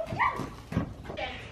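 A big dog gives a few short whining and barking vocalizations close by, in quick bursts over about a second and a half.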